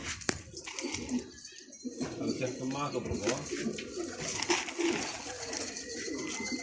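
A bird, apparently a pigeon or dove, gives repeated soft cooing calls at close range, while someone talks over much of it outdoors as dusk falls.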